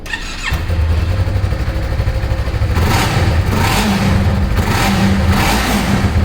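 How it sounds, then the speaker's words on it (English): A Yamaha R3 motorcycle engine catches and idles after throttle replacement, then revs up in a few repeated throttle blips, loud and close with no talking. "Start your engine."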